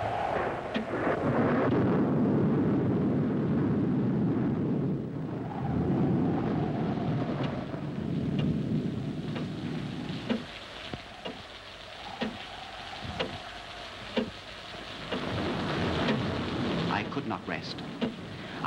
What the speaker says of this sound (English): a fast rising storm of a freak nature